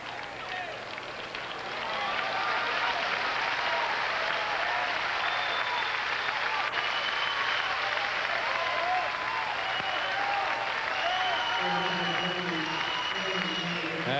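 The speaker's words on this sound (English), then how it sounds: "round of applause from this very appreciative crowd here on this Mother's Day" Baseball stadium crowd applauding on Mother's Day at a 1991 Hawaii versus Utah college game, a steady broad wash of clapping and cheering that swells after a quieter start and holds for a long stretch, with a voice faintly heard beneath.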